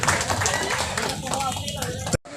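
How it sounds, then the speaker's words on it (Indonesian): An audience claps for the regent at an anniversary gathering, a busy patter of many hands under a voice talking over it, then cutting off abruptly near the end. "Tepuk tangan sekali lagi buat bupati kita."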